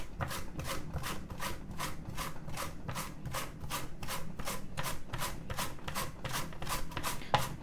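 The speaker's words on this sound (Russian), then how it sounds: "Вот морковку по-корейски нашинкуем. Ну, на терке по-корейски." Carrot rubbed against a Korean-style grater for carrot salad, an even rapid series of scraping strokes, roughly two per second, close and steady with no talk.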